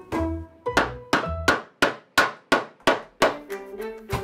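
Sharp metallic hammer blows on a silver sheet being shaped by hand into a kettle ring out one after another at a steady pace, about a dozen strikes, each with a bright clanging decay.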